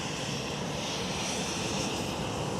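JetBlue airliner from Boston taxiing at Schiphol, a steady broad jet engine rumble and whine at moderate distance, continuous and even.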